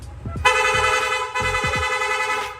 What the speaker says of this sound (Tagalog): Long press lang po natin yung horn switch, yung busina natin, magsusunod-sunod na po yan.